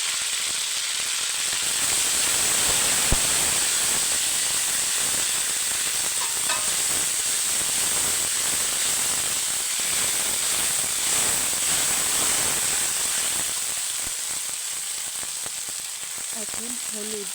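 Spice paste of ginger, garlic and cumin with bay leaves frying in oil in a pan after onions, giving a steady loud sizzle and hiss throughout with faint stirring.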